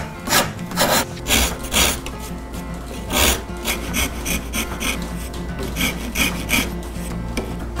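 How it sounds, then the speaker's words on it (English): A microplane rasp carves a wooden cigar-box ukulele neck in repeated rough scraping strokes, close and fairly loud, with uneven rhythm and brief pauses between some passes. "I'll carve it using a microplane rasp."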